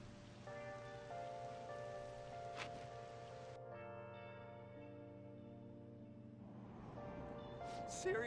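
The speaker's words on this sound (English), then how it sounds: "It's raining." Rain falls in the video game Persona 5 as a soft, steady hiss beneath sustained background music tones, quiet throughout.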